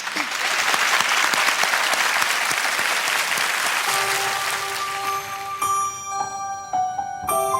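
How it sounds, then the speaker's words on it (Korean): Loud, dense applause from a children's singing contest audience fills the hall for several seconds, then thins as a sustained instrumental intro with bright tones enters and takes over toward the end. "큰 박수 보내주시기 바랍니다"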